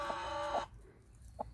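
A hen gives a short, close cluck and then goes quiet, with one faint softer cluck following after a pause.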